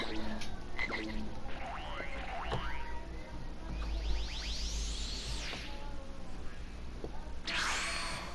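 Frog croaks and cartoonish warbling, boinging effects from the video game Dragon Ball Xenoverse 2, a string of rising and falling chirps over a low hum, moderately loud and close.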